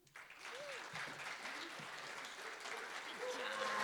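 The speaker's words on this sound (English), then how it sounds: "Everybody claps afterwards" An audience claps together in sustained, dense applause after a talk on medical cannabis, even and fairly distant, swelling slightly toward the end while a few voices murmur underneath.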